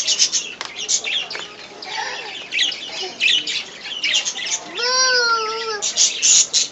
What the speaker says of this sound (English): Let's look at the bird, Sophia.